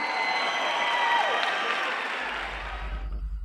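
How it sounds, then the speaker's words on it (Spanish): A crowd at a drag queen gala in Torremolinos applauds and cheers steadily at a moderate distance, the clapping continuing for about three seconds before cutting off under a low rumble. "¡Fuerte el aplauso!"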